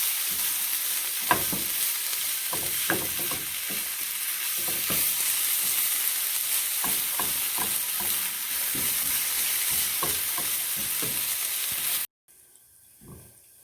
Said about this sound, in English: And I'm just going to saute it for just a minute.